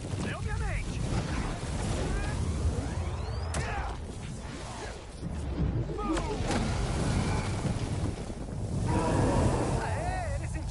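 A steady rush of flowing water in the Spider-Man 2 video game fills the scene as a broad, continuous hiss that swells and dips, with voices running underneath.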